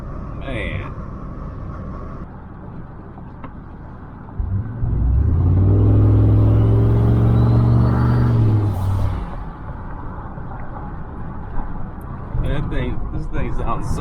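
A turbocharged 2021 Chevrolet Silverado idles with a low rumble, then revs up into a loud, sustained, deep roar for several seconds before dropping back to idle, close by with a voice over it.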